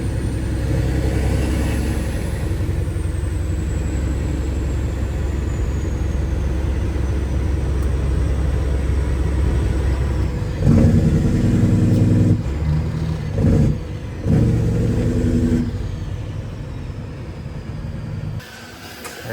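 A crane hoists Westen's Peterbilt truck off the ground, its heavy engine droning loudly and steadily, then giving way to uneven surges and pauses as the lift proceeds.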